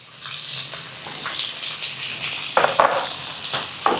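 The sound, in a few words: sautéing chopped tomatoes in pan for Kerala ulli sambar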